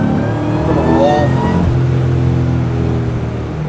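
A supercharged 1963 Chevrolet Nova with roughly 850 horsepower accelerating hard, its engine roaring loud and close with a rising pitch early on, then holding a steady drone to the end.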